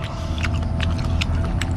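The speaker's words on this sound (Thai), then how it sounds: "ลองแบบเคี้ยวกุ๊บ" Crispy food eaten with sticky rice at a Thai beef stall in Sam Phrao is chewed right at the ear, with crunches coming in a steady rhythm over a constant low background rumble.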